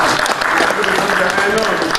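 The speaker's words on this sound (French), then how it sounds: "Bon, on peut applaudir quand même." Applause from the audience at a medical conference on oncology in Congo-Brazzaville, a dense, loud and continuous clapping wash with murmuring voices mixed in.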